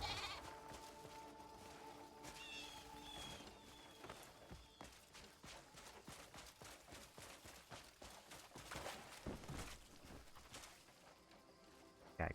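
In the video game Crimson Desert, a goat bleats amid hoof clip-clops and rustling movement, with game ambience running throughout.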